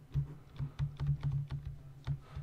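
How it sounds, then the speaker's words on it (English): Loud computer keyboard typing during Minecraft play: a quick, irregular run of sharp key clacks with thumping low strikes, close and alone. "Sorry if you can hear my keyboard."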